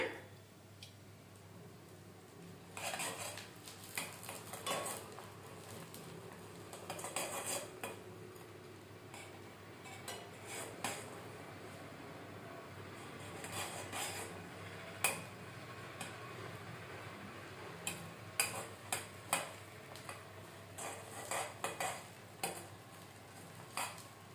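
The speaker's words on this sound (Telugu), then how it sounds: "పోపు దినుసులు వేసాను" Tempering spices fry quietly in four spoons of hot oil in a pan for a beetroot fry, with a spoon scraping and clinking against the pan in scattered bursts over a faint background hiss.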